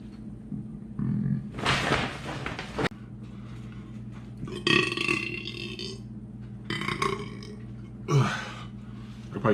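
A man burps repeatedly after a big meal, loud drawn-out belches in separate bursts close to the listener, over a steady low hum.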